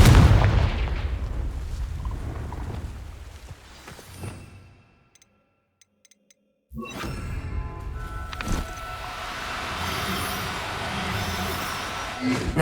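Confringo blasting-spell explosions in Hogwarts Legacy: a loud booming blast with rumbling tail, a brief silent gap, then another burst followed by crackling, debris-filled noise.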